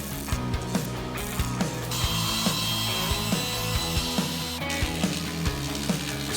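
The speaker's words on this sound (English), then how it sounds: "We are using the machine saw to cut them in a precise manner." Machine saw cutting rough timber for a large DIY tabletop, with steady rhythmic rasping strokes and ratcheting mechanical clicks under a continuous hiss, fairly loud and close with no talking.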